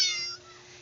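A single short cat meow in a house, bright and close at the very start, then fading away into quiet room tone.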